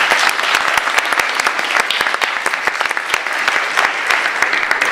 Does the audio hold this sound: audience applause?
yes